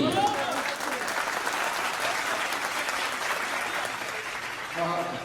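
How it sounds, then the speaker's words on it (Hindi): An audience at a Hindi poetry recital claps steadily in a dense, sustained round of applause, with a voice surfacing briefly at the start and end. "आपकी तालियां कमजोर है"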